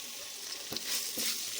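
Beetroot poriyal with onion and asafoetida sizzling steadily in a pan, a soft, continuous frying hiss with faint stirring scrapes.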